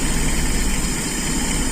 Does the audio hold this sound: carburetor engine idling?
yes